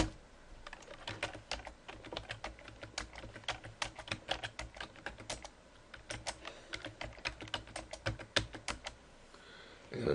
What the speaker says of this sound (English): Put mine in using the keyboard.